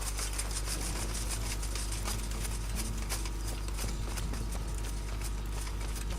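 Horse hooves clip-clop steadily in Kingdom Come: Deliverance, a continuous run of hoof beats under dense, loud game ambience with no talk.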